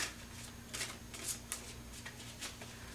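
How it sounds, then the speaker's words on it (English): A deck of tarot cards shuffled by hand in quick, soft riffling bursts, close up and quiet, with no voice heard. "Every time I shuffle them, they want to fly out."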